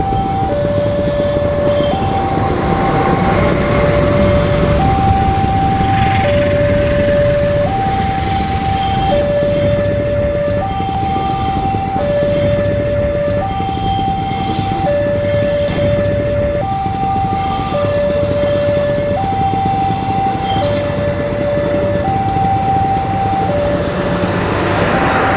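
A locomotive shunts a rake of new KRL electric train cars in a braking test, the wheels squealing loudly and continuously with a long repeating two-tone warning pattern, steady heavy rail rumble underneath.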